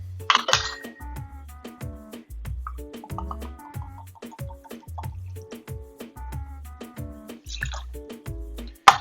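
Blanco tequila pours into a glass in a series of bright clinks and trickling drips, light and close, with a few sharper knocks at the start and end.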